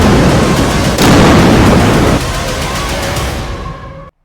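Missile and multi-barrel rocket launcher fire in a Hezbollah attack: a dense, loud roar of blasts and crackling bursts, swelling sharply around the one-second mark, then easing into a lower rumble before cutting off.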